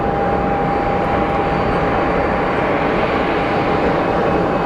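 A Bombardier aircraft's engines roaring at Geneva Airport, a loud, continuous broadband rumble with a steady whine, close and unbroken, no talking.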